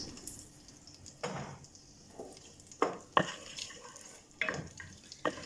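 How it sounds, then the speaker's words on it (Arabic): Onion frying in melted butter in a pot for red pumpkin soup: a faint, low sizzle broken by a few scattered stirring scrapes, with no talking. "ملي تذوب معايا هاد الزبدة غادي نضيف ليها البصل ونخليه يتشحر مزيان"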